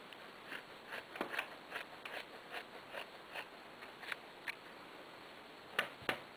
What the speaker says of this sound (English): First I'm going to cut off the hem.